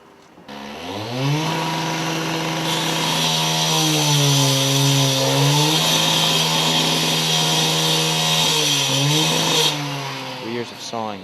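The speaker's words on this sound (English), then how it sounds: "Years of sawing, drilling, and hammering." A construction crew's power saw running loudly beneath a window, a sustained whining buzz that rises and dips in pitch as it cuts, close and continuous for about ten seconds.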